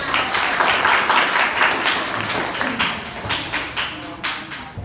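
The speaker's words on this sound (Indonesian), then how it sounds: "tepuk tangan" A classroom of students applauds after a group presentation, lively clapping from many hands with distinct sharp claps, loud at first and then thinning into scattered, uneven claps toward the end.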